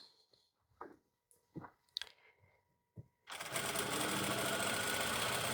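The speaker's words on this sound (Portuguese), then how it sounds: "Então, vou costurar aqui com 1 centímetro. Começo com o retrocesso." Sewing machine stitching a muslin dress seam, preceded by a few faint clicks and handling taps, then running steadily and loudly at close range for the final couple of seconds.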